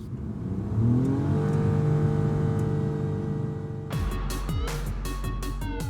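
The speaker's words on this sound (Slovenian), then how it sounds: "pri dinamični vožnji se motor po njegovi zaslugi zaganja in tudi precej glasen je" A Toyota Aygo X small city crossover engine revs hard under dynamic driving, a loud, steady droning hum that holds and then shifts pitch near the end, with no talking.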